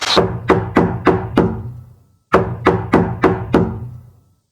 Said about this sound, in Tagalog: nagulat na lamang siya nang makarinig ng malakas na katok mula sa kawayan